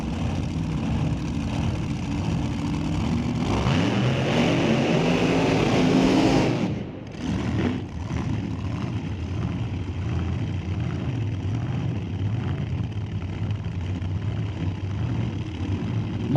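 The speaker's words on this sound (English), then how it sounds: "Couple of vintage front engine dragsters pulling into the burnout box." Vintage front-engine dragsters idle steadily in the burnout box at an old-time drag racing event, a loud, low rumbling engine drone that continues throughout with a brief dip midway.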